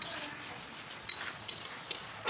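Onion and masala frying in oil in a home kitchen, a soft sizzle broken by a few quick scraping stirs, faint and close.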